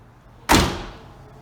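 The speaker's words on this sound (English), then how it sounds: "Press it again, and the door pops open. Same thing when you shut it." The door of a 1997 TVR Cerbera closes in a single solid thump, close and loud, fading quickly into a quiet background.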